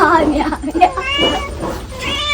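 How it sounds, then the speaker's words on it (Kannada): A small cat at a grandmother's house meows several times in short, high cries, close by and mixed with people talking. "ಅದಕ್ಕಿಂತ ಸಣ್ಣ ಬೆಕ್ಕು ಇಲ್ಲಿದೆ"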